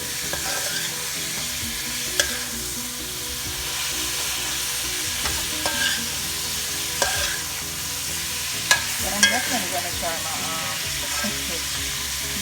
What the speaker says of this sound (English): So you're gonna stir this constantly.